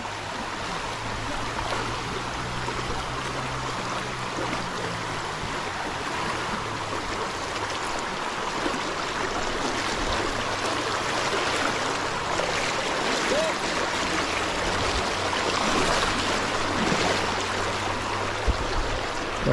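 Floodwater from a swollen monsoon river in the Konkan pours over a dam and a bridge, a broad, steady rushing roar that holds constant throughout, with a low engine-like hum running beneath it.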